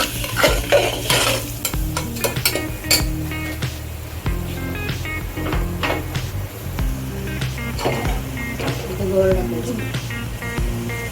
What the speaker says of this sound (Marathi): आता सर्व मिश्रण मिक्स करून घेऊया आणि जोपर्यंत ते तेल सोडत नाही तोपर्यंत घाटून घ्यायचं